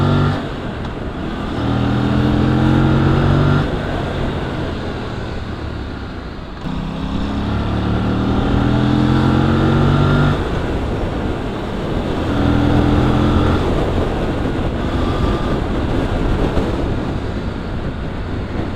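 Aprilia RS 457 parallel-twin racing motorcycle engine revving and shifting through gears, rising engine tones climbing then dropping in repeated pulls, loud and close with wind rush throughout.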